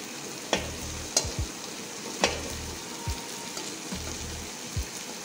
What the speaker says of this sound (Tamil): அந்த சிக்கன் மசாலா பவுடர் அந்த பட்டரில் அப்படியே ஃப்ரை ஆக விடுங்க.